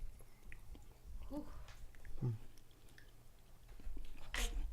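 Quiet, close chewing and biting of spicy food by people at a table, soft wet mouth sounds in a few brief bursts over a low hum, with faint murmured talk.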